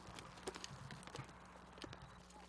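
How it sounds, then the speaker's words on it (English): Horses' hooves clip-clopping on a film set, a scattering of light irregular hoof knocks, fairly faint and distant over a steady low hum, with no talk. "Why do we have horses on set?"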